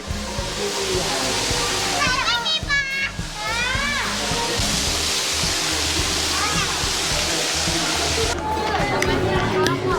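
Waterfall at a hilltop temple site in Phitsanulok, Thailand, a steady broad roar of falling water close by, with children's voices and chatter over it throughout.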